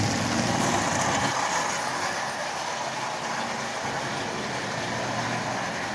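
A Marx toy train motor, switched into forward by a DPDT micro-toggle replacing its E-unit, runs with a steady, fairly loud whirring hum that holds even throughout, with no talk over it.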